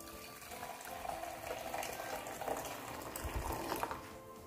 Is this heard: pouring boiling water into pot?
yes